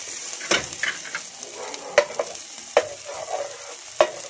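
Butter melting with a faint sizzle in a pot being swirled and shifted, quiet frying hiss broken by several sharp scrapes and knocks of the pot.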